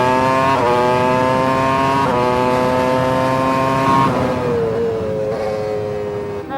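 A Formula One car's engine screams at high revs on track, loud and continuous, its pitch climbing through quick upshifts with brief dips, then settling into a steadier drone as it eases off near the end.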